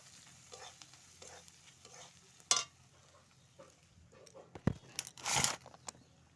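Turmeric and chilli powder being stirred into hot oil in a pan, with a low sizzle under a few sharp scrapes and a louder burst of frying near the end; no talking.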